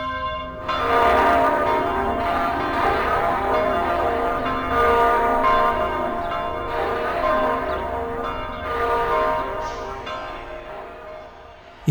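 Church tower bells toll in a sustained, resonant peal, the overlapping strikes ringing on for the whole stretch with a rich hum of harmonics and no voices.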